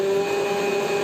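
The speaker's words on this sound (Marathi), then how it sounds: "याला आता आपण मिक्सर मध्ये क्रश करून घेऊया" Mixer grinder running while crushing ingredients for tender coconut ice cream, a brief steady motor whine with a strong even hum, loud and close.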